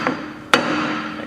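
Two sharp hammer taps drive a boat propeller onto its shaft through a wood block in a boat shop: a soft first knock, then a louder, crisp strike that rings briefly.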